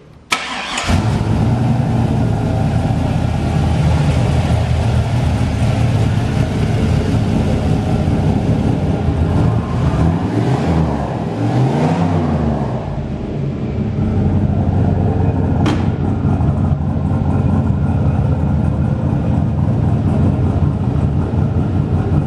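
A Ford Model T project car engine starting and then running steadily for about twenty seconds, loud and close, with a dip in revs midway before settling back into a rough, even idle.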